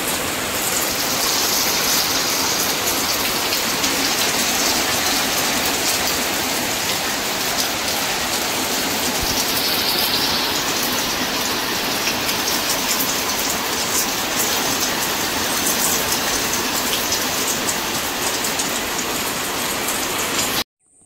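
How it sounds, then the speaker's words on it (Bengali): Heavy rain pours down without a break, a dense, loud, even roar of drops striking surfaces nearby that holds steady until an abrupt cutoff at the end. "বৃষ্টি হচ্ছে দেখুন।"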